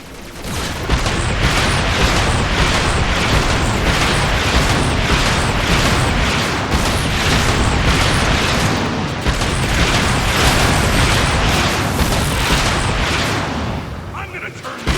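Turret fire and explosions in the Transformers: Rise of the Dark Spark video game, a dense, loud, continuous barrage of rapid gunfire and booms that rarely lets up, with game dialogue mixed in.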